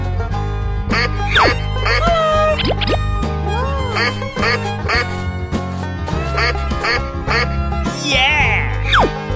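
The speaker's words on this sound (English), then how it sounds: "Duck." A cartoonish giant duck quacks loudly and repeatedly with bright, bouncing squawks layered over busy, steady background music.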